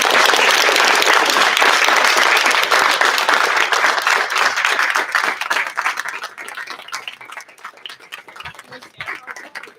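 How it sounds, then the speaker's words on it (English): A graduation audience applauds class 22-14 in a dense, loud burst of clapping that gradually thins and fades toward the end, with no talking. "Let's give one more round of applause to the class"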